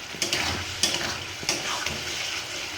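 A spoon scrapes through green plantain peel paste as it dries in a hot pan, with soft rhythmic strokes about every half second over a faint sizzle.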